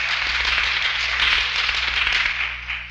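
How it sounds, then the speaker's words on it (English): Audience applause fills a lecture hall after praise of Amway's Richard DeVos, a dense, steady wash of many hands clapping close by, scattered sharp individual claps poking through, sustained and loud for the whole stretch. "I wish he could hear that applause."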